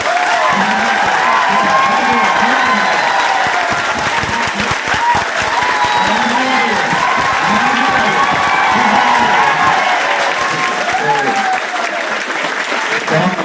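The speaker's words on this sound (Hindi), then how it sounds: "एक बार जोरदार तालियों से" A classroom audience at a UPSC/BPSC exam-preparation workshop bursts into loud, sustained applause that fills the room steadily throughout, with shouts and voices mixed into the clapping.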